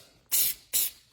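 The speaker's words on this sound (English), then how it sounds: "they have a multi-purpose adhesive spray, okay? And they coat the bag." Two short bursts of multi-purpose adhesive spray hissing from a can as it coats a bag, each about a quarter second long, close and loud with a brief pause between.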